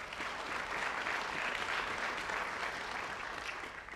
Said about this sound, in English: round of applause for Angie Hurt